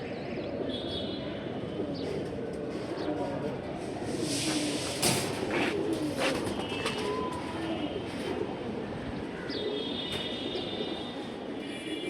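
Pigeons for sale at a market coo softly and intermittently, nearly buried beneath a constant, heavy wash of crowd and background rumble that persists throughout.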